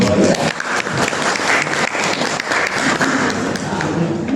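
Audience at a workplace safety seminar applauding, a loud dense patter of many hands close by for several seconds, with some voices mixed in underneath.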